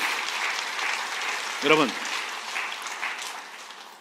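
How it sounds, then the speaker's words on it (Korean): An audience claps steadily through a church testimony service, with a speaker's voice briefly heard over the applause. "이때 박수 칩니다."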